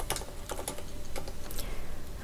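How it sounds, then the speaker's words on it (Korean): Fast typing on a computer keyboard while entering text into an Excel cell: a quick run of crisp, close key clicks with irregular rhythm, a few louder taps standing out, and no voices. "그대로 타이핑 치면 되겠습니다"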